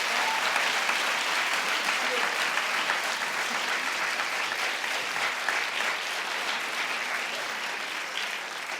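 A studio audience breaks into a full, sustained round of applause, dense and steady without a pause, easing off only slightly near the end.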